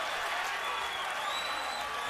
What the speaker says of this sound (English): Crowd responds to the two big right hands by Julio Cesar Chavez.